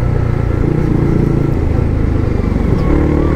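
A Yamaha MT-15 motorcycle fitted with an aftermarket exhaust pipe drones steadily while riding, close and loud, with a continuous engine rumble and no talking.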